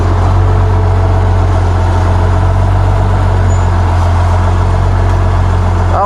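An old, high-hours farm tractor engine running, a loud, steady low rumble with a constant droning hum that holds evenly throughout, without talk.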